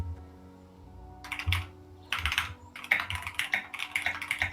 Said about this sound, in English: Yes, the typing ASMR.